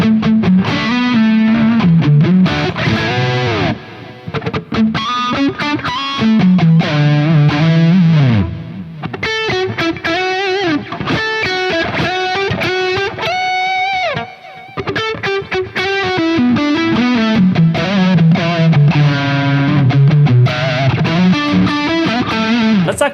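An electric guitar plays loud, gritty distorted riffs and sliding lines through a Soldano SLO-100 amp plugin with the pedal off, dense and continuous, with a brief dip midway.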